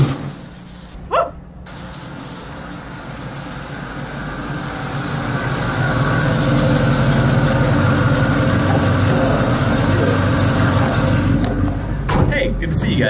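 A steady low engine rumble idles continuously, growing slightly louder partway through, with a brief knock near the start and faint voices underneath.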